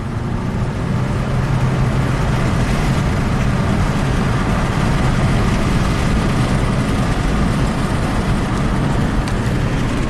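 Steady, loud engine and road rumble from a Chevrolet Malibu with a V6 non-GDI engine, heard from inside the car on a test drive after an intermittent reduced-power fault, continuous and even throughout without talk.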